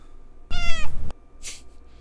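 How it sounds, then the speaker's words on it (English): A cat meows loudly and close by, one long harmonic meow followed by a shorter, fainter call, heard alone in a quiet indoor room. "Don't meow at me, I'm recording stuff."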